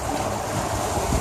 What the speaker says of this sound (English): We're dealing with waves coming in off the lake there.